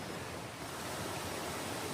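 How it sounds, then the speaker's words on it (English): Water flowing downhill along a forest hiking trail near a small waterfall, a steady, continuous broadband rush with no breaks, fairly close and alone. "I'm gonna get some other video of the water flowing over here."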